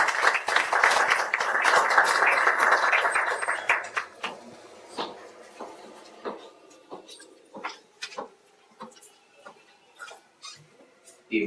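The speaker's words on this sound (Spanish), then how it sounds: "Recibamos con fuertes aplausos al doctor Sergio Berros Pipolo." An evening audience at a notarial law lecture claps to welcome a speaker: a dense burst of applause for about four seconds that thins into scattered, isolated claps trailing off.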